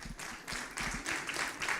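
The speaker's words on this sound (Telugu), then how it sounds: "ప్రసాద్కి చప్పట్లు కొడదామా?" A short, soft patter of clapping from a small gathering honouring Prasad at a wedding anniversary celebration, faint and distant with uneven rhythm.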